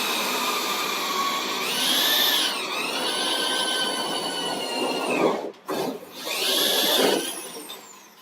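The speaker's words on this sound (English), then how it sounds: "So now I'm drilling the holes in the plenum for the air distribution chamber." Loud, steady high-pitched whine of a power drill boring holes in an air distribution plenum, running continuously with a brief pause before spinning up again.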